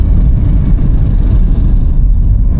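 Road traffic on a busy Gujarat road near Ahmedabad, a continuous low rumble of engines and passing vehicles close by, with no voices.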